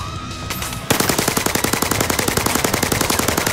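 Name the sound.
gunfire in ZeroCaliber VR video game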